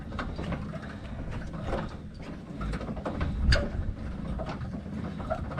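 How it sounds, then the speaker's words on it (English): An automatic trailer latch works and locks itself, with mechanical ratcheting clicks and clunks over a low background rumble, building to a firmer clack midway and then lighter rattles, nearby and without talking. "It's an automatic latch"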